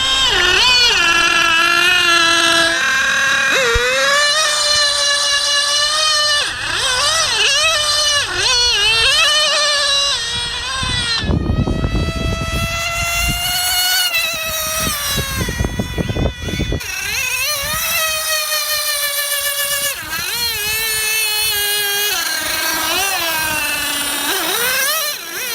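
A Serpent Viper nitro on-road RC car with a Novarossi engine makes a speed pass on a road, its high-revving buzzing engine climbing and falling in pitch as it approaches and passes, loud and continuous throughout the 25 seconds.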